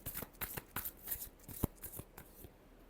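Tarot cards are shuffled by hand, quiet close riffling with a quick run of soft flicks and taps and one sharper snap midway.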